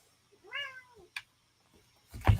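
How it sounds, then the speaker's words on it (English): A cat meows with a clear, drawn-out call, close by, followed by a short sharp noise and a louder thump or rustle near the end. "Yo, cat, what are you talking about?"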